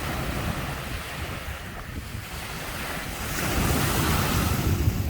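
Sea waves wash onto a fine-sand beach at Ao Manao, Prachuap Khiri Khan, with steady surf and wind buffeting the microphone, growing louder toward the end; no speech.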